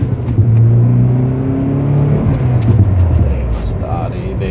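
A VW Golf GTI Mk2 with the 8V engine revs up close by, its deep rising drone climbing in pitch and sustained loudly through the whole stretch, with a voice briefly audible over it.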